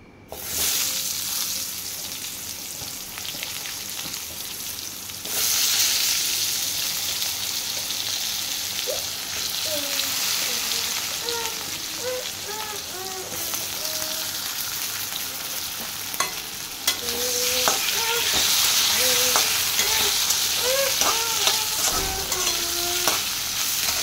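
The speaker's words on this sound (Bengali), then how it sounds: "এবার আলুগুলো ভেজে নেব।" Potatoes frying in hot oil with black cumin seeds in a pan, a steady close sizzle running throughout, with occasional scraping and stirring sounds and louder bursts of crackling partway through.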